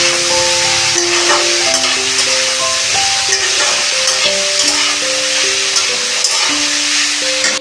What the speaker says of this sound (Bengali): তারপর সবজিগুলো দিয়ে দিলাম।